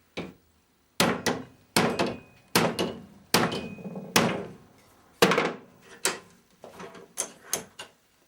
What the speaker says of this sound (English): place it in the vise and put a kink in the end.